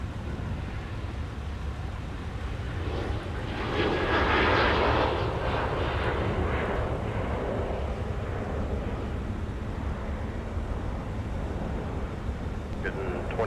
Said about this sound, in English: This is American Airlines flight 2220 nonstop to Dallas Fort Worth out of 737-800.